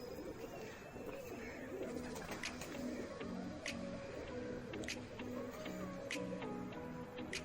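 Soft, low coos from breeder pigeons repeat steadily over a busy background of faint chirps and scattered clicks.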